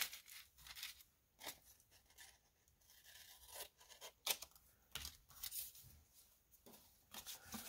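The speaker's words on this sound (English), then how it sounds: "Scissors." Scissors snipping through paper for a junk journal craft project, a series of quiet, close crisp cuts and rustles at an irregular pace with no talk.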